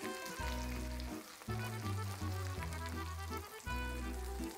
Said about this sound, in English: That's the sound of success when you sear something in a pan.